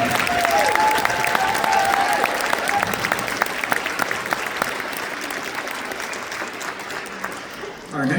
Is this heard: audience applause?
yes